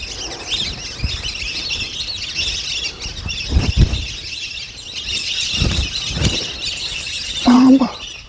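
Waterhen calls at Thattekkad bird sanctuary: a few squealing, squawking cries rise near the end over steady insect-like chirping and faint rustles in a quiet wetland setting.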